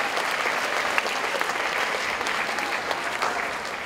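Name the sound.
audience applause at school assembly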